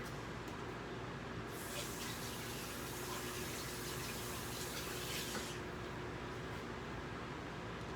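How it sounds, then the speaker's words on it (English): Hands rinsed under a running kitchen tap while preparing a Mexican frittata, a steady loud gush of water lasting throughout, with a brighter spraying hiss in the middle as the hands move under the stream. "Rinse my hands and get a fork."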